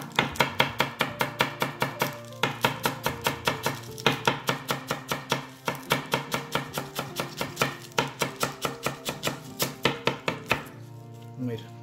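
A Royal Prestige knife chops onion for tacos on a board at a table: loud, rapid, evenly spaced thuds in quick runs separated by short pauses, close up and with no talking.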